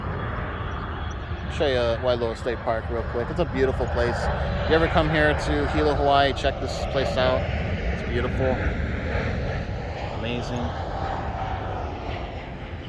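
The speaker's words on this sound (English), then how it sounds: "oh, we got a plane crossing by." A low airplane engine drones steadily overhead near Hilo airport in Hawaii, loud and sustained throughout while someone talks over it.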